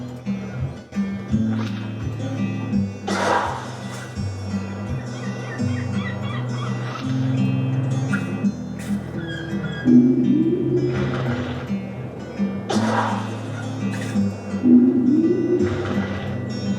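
Birds in the game I Am Dead squawk and gobble in repeated rough calls that rise and fall across the stretch, and a voice talks over them now and then.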